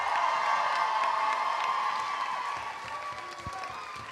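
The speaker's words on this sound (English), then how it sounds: "let's give them one last round of applause" A student audience at a live 2020 exec election reveal claps and cheers in a room, sustained applause with scattered whoops that gradually fades toward the end.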